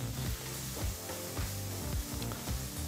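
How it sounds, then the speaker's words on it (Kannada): Chopped onions fry in a pan with a soft, steady sizzle and occasional stirring scrapes, continuous and close, with no voices. "ಈರುಳ್ಳಿನ ನೀವು 1-2-3 ನಿಮಿಷಗಳ ಕಾಲ ಚೆನ್ನಾಗಿ ಫ್ರೈ ಮಾಡ್ಕೋಬೇಕಾಗತ್ತೆ."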